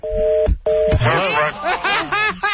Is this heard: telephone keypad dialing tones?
yes